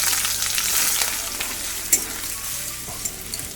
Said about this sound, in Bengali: তেলের উপরে দিলাম একটু চিনি দুটো তেজপাতা কয়েকটা শুকনো লঙ্কা একটুখানি গোটা জিরে একটু গোটা গরম মশলা আর এবার কেটে রাখা পেঁয়াজটা দিয়ে দিচ্ছি